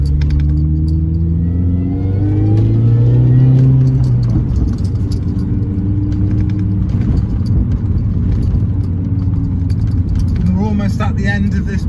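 An R53 Mini Cooper S engine drives hard along an open B road, loud and close, with harmonic tones rising and falling through revs, then steadier high-rpm rumble; a voice talks over the engine throughout.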